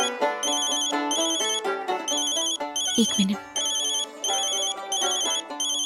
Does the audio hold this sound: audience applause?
no